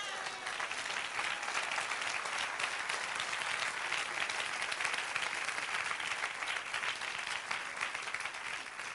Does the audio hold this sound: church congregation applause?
yes